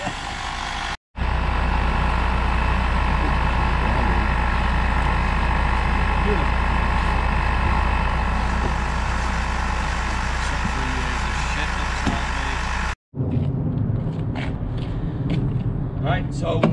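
A Mitsubishi Colt convertible's engine starts up and idles with a steady, loud, close drone that runs for several seconds, then cuts out, followed by a quieter stretch with background noise.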